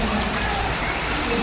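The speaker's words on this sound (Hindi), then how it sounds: "आज बारिश हो रही है गाइस बहुत तेज़ी से" Heavy rain pours down outdoors as a dense, steady hiss that fills the whole short stretch, close and fairly loud, with no voices rising above it.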